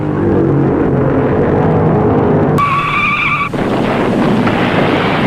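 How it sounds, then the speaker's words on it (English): A NASCAR race car blows a tire and smashes through a guardrail in the first turn: loud, continuous engine and tire roar with a sharp metallic screech lasting about a second midway, then rumbling noise. "Pagan blew a tire, smashed through the guardrail, and rolled down the 40-foot embankment."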